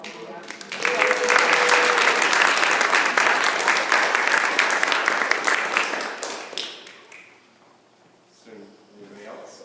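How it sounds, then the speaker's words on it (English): Audience at a citizen lobby training session giving a round of applause that builds quickly, holds dense and loud for several seconds, then thins and fades, leaving scattered claps and a few voices. "I would like to give you guys a round of applause"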